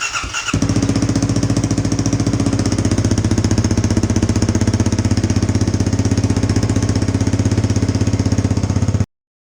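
A 2018 Kawasaki KLX 250 fitted with an FMF Q4 slip-on exhaust fires up and settles into a loud, close, rapid single-cylinder idle, steady and throbbing for about eight seconds before cutting off.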